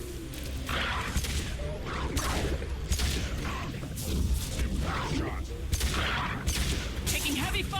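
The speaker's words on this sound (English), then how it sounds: "Taking heavy fire." Heavy gunfire in the video game Mass Effect 2, with dense, continuous bursts of shots and impacts layered over a constant rumble of combat and a voice speaking amid the noise.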